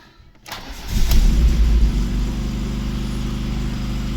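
A VAZ 2109 with a fully cold engine cranks briefly, catches and fires up, surging loudly before settling into a steady, rumbling idle recorded close by.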